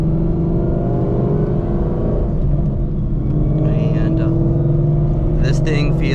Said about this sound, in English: get in the car and let it rip.